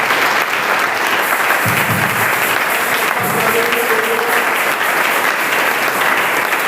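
A church congregation applauds and cheers for Jesus, a dense, loud, sustained wash of clapping from many hands throughout, with a brief low thump or two beneath.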